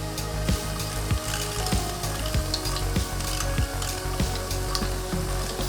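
Fresh-ground beef for lasagna meat sauce sizzles loudly in a pan, a dense steady frying hiss with repeated scraping thuds of stirring, close and without voices.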